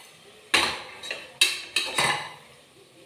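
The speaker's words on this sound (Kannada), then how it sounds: "ಸೊ ಇವಾಗ ಆ ಪೀಸ್ನ ಇದಕ್ಕೆ ಹಾಕ್ತಾಯಿದ್ದೀನಿ." Soaked green peas are tipped into a pan with about five sharp metallic clatters and clinks, spaced unevenly and close by, with no talking.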